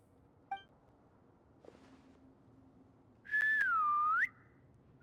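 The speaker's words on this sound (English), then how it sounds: "Why is she whistling?" A character whistles in the Genshin Impact game, a single clear, sustained whistle lasting about a second that dips and then rises in pitch, following a couple of faint clicks against a quiet background.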